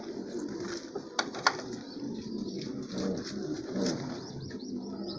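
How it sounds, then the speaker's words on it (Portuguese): Bronze pigeons coo softly and repeatedly over a busy background, with a couple of sharp clicks or wing claps standing out partway through. "Um bocado de pomba aí rodando aí"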